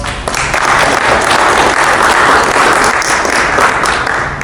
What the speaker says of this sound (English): so we'll give him a round of applause